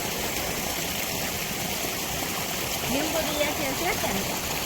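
Water rushes steadily through a breach in a village pool with a broad, continuous roar, close by, while a voice speaks faintly underneath toward the end.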